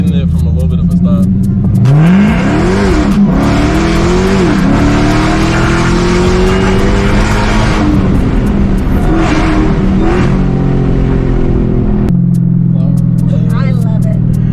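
A 1000-horsepower Dodge Hellcat launches hard from near a stop, its engine roaring up through rising revs and gear shifts, loud and close from inside the cabin, before settling to a lower rumble while people talk.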